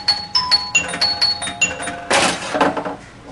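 Astro Manufacturing Black Sheep Squadron pinball machine playing a short electronic chime tune, a quick sequence of bright bell-like tones followed by a burst of noisier clanks, close and clear.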